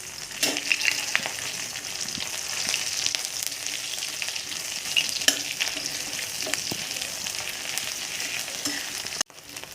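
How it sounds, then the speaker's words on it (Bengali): Shidol, a fermented dried fish, fries in hot mustard oil with a steady bright sizzle and occasional scrapes of stirring, close and continuous before cutting off near the end. "এখন আমি শীতলটা ভাজা করে নেব।"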